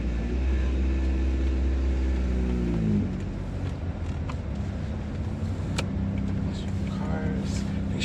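A Honda Prelude project car pulls away, its engine hum and low drone shifting as it drives off, with road and ambient noise continuing at a steady level afterward.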